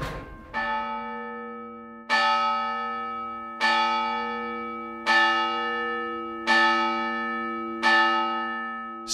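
A church bell rings alone in slow, even strokes, six clear resonant peals about one and a half seconds apart, each one ringing on and fading before the next strike.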